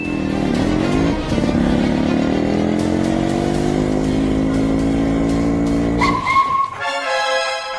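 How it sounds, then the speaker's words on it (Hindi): Motorcycle engines during a chase scene, a loud close roar with rising revs and gear changes, ending in a sharp high-pitched squeal. "बाइक से पीछा करते हैं।"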